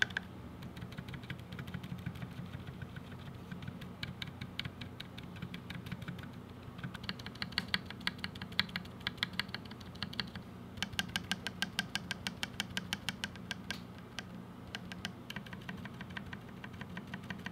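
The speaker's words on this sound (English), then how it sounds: "The only sounds you should be able to hear are the sounds of the keycap moving or a very light tapping noise." Light, quiet tapping on computer keyboard keycaps fitted with modded stabilizers: a steady, close stream of soft clicks over a low background hum.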